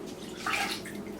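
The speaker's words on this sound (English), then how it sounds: "Now that the butter is melted, we're going to pour that into a separate bowl." Melted butter poured from a pan into a separate bowl while making oatmeal chocolate chip cookies, a short close liquid splash and trickle lasting about a second.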